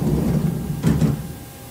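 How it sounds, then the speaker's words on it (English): Sliding doors on a Haas VF1 CNC mill close with a short rolling rumble and a soft thud near the end, over a low machine hum. "I will close my doors"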